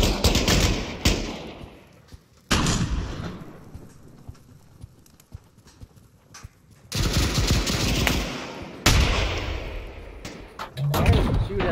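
Gunfire in the multiplayer shooter Pavlov: loud bursts of rapid shots come in clusters at the start, around seven seconds and near the end, with quieter gaps between and players talking over it.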